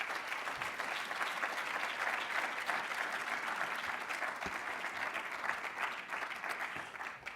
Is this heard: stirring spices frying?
no